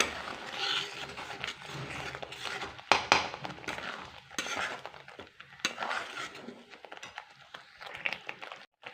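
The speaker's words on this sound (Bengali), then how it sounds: "চিনিতে নারকেলটা দিয়ে ভালো করে একটু মিক্স করে দিয়েছি" Spoon stirring grated coconut into hot sugar syrup in a pan, with steady scraping and clinking against the metal and a faint sizzle, close up, without speech.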